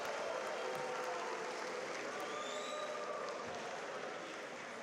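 Audience at a college evening event with Charles Barkley clapping, a faint, even spatter of many hands heard from a distance and sustained throughout without a clear rise or fall.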